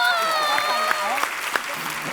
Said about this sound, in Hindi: जोरदार ताली हो जाए विद्या जी की